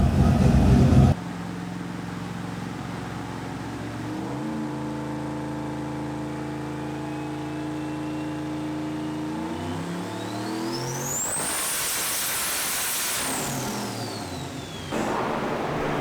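A Chevrolet Chevelle street car of about 1100 wheel horsepower, exhaust cutout open, climbs in pitch as it revs hard through the gears, loud and raspy, then whines up sharply before dropping back to a rumble.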